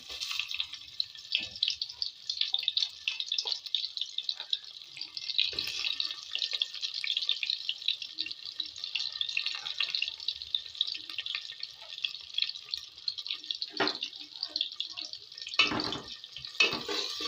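Chopped onion frying in hot oil in a pan, a steady close sizzling hiss with occasional soft clatters from stirring, and no talk.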